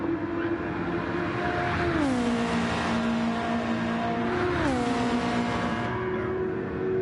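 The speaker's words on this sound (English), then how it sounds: "Oh, these engine noises are pretty loud" Race car engines from a DRL Formula Super League round at Dragon Trail Seaside drone loudly and constantly, with two clear gear-shift pitch drops as the revs fall and climb again.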